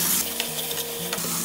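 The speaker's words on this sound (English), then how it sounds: "On slow heat, we're gonna let it simmer for 4 minutes more" Mutton paprikash with tomato and salt bubbling over slow heat, a close, even sizzle with light stirring clicks and a low steady hum beneath, no talking.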